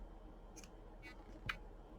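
Scissors cut yarn during a loom-knitting project, making two or three faint, quick snips in a quiet room.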